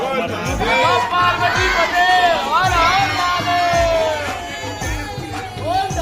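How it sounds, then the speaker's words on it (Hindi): A crowd of devotees in the courtyard of Mangleshwar temple fills the air with lively chatter, calls and whoops, with one voice talking prominently over the steady hubbub. "आप देख सकते हो मंगलेश्वर मंदिर प्रांगण में कितनी भीड़ है"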